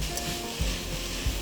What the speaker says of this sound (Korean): 버터가 녹으면 여기에 새송이 버섯을 넣어주세요.